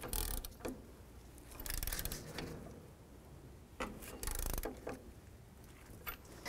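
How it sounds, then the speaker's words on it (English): A torque wrench tightens the ball joint nut on a 1984–2001 Jeep Cherokee front suspension, giving several quick bursts of ratcheting clicks separated by short pauses, close and moderately loud. "I'll torque it with my torque wrench"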